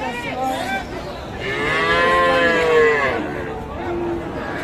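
Cattle at a busy livestock market, including cross-bred Friesian bulls and calves, give a long, loud, near moo, with murmuring crowd voices and a shorter call before and after.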